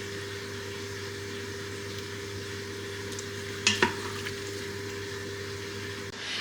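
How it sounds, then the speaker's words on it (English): Minced beef taco meat sizzles steadily in a multicooker with a faint background hum, broken near the middle by a brief clatter of a spoon stirring. No one speaks. "I just have to stir that again and just show you how amazing it looks."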